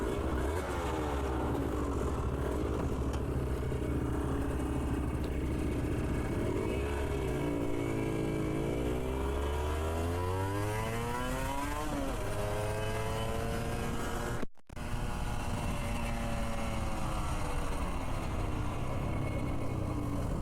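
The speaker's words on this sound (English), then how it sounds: "let you hear what this two-stroke motor sounds like on the pipe" A 1998 Aprilia RS250 two-stroke motorcycle screams loudly on the pipe during a ride, revving up and down through repeated rising sweeps and gear changes with a brief cut in the middle.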